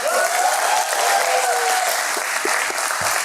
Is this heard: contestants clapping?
yes